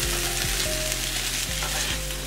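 Fried rice seasoned with soy sauce and teriyaki being stirred in a pan, a steady close sizzle with scraping strokes of the utensil recurring every half second or so, with no talking.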